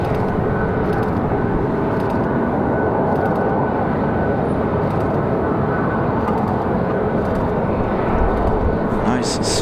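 A Southwest airliner arriving at Raleigh-Durham airport on a windy day gives a steady, loud broadband jet roar that holds throughout, with wind buffeting, and a voice talks over it.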